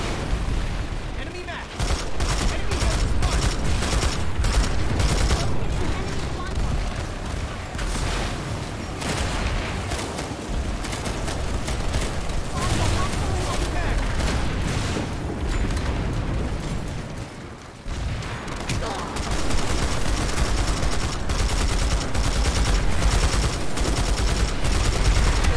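Sustained light machine gun fire from an LSW in the Planetside 2 video game: dense, loud automatic bursts that run almost nonstop, with a brief lull near the middle before the heavy firing resumes.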